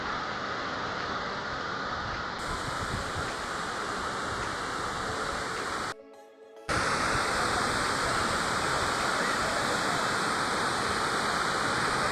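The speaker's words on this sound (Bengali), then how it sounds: "আপনারাও শুনতে পাচ্ছেন জলপ্রবাহের শব্দ" Hudru Waterfalls in Jharkhand roar as a dense, continuous rush of falling water, loud and close, broken only by a brief dip in the middle.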